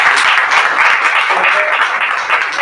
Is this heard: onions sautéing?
no